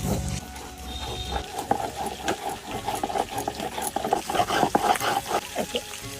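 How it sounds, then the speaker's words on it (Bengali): Chili, cumin and ginger being ground into a spice paste, heard as soft, rhythmic scraping and thudding strokes that repeat steadily against a low background. "এই মশলাটা আমি বেটে নেব"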